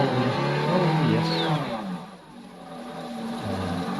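An outboard motor runs during an alternator test with a failed water supply, a close, steady mechanical drone whose pitch sags and dips partway through before climbing back up.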